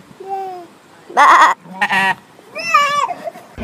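Several wavering bleats come one after another with short gaps, close and fairly loud. Some may be a person imitating the animal.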